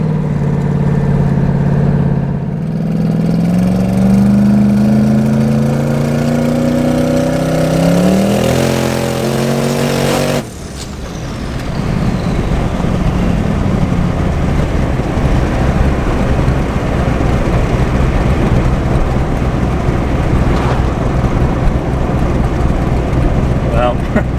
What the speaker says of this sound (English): we're just going to go up around this corner and hit it in second gear